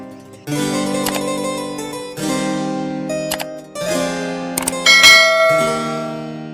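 Bright bell-like chimes of a notification bell sound effect ring out in several successive strikes, each tone sustaining and fading, loud and close with no voices.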